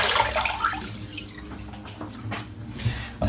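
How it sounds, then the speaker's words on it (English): Tap water running and splashing close by in a bathroom sink while hands wet a face before a shave, a steady watery rush lasting a few seconds with no voices. "Let's wet the face."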